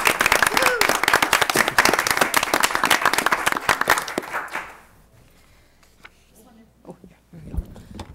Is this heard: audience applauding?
yes